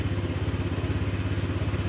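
A Honda Vario 125 scooter engine runs steadily at idle, a close, continuous low rhythmic putter with a faint mechanical clatter, loud and alone.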